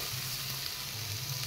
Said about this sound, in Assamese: এইখিনিও এনেদৰে অলপ ভাজি ল'ম